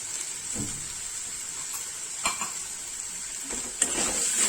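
Masale bhat, spiced rice with turmeric, is stirred in a pan over a steady sizzling hiss, with a few scraping spoon strokes and a clink against the metal.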